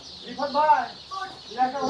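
Newly hatched Indian Tiger chicken chicks at a hatchery, heard as close, high, wavering peeps in two or three short bursts with brief gaps between them.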